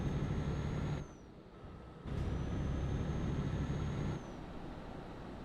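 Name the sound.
semi truck accelerating and braking hard uphill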